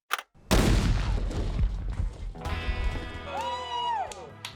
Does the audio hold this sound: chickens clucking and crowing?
no